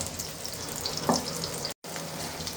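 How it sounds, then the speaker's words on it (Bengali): Onion and green chili fry in a pan for khichuri, making a steady close sizzle with a brief stir partway through and a momentary dropout. "আমার পেঁয়াজটা আর কাঁচামরিচটা ভাজা ভাজা হয়ে আসছে হালকা হালকা।"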